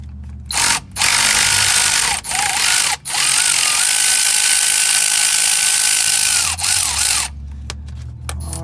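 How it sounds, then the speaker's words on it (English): On a 2004 Ford F-150 4.6L 4x4, a power wrench on a long extension whines at high pitch in several long bursts with brief pauses while a front differential bolt breaks loose, recorded close. "we've got our long extension on that bolt right there. We're going to go ahead and break that one loose."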